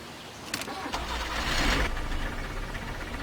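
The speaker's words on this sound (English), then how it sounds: "Now I really would have wished that we would have heard a little bit more authentic sound on the engine." An old car's engine cranks and starts in the driving game Jalopy, a few short clicks giving way to a swelling mid-loud rumble that settles into a steady idle, heard alone without speech.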